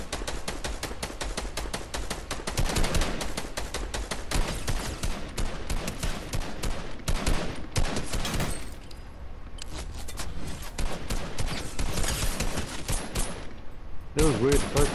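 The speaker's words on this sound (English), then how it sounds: "they're gonna shoot at me." Bots firing guns in the Fortnite video game, producing dense, sustained rapid gunfire and impacts that run loud and continuous throughout, with game sounds layered in.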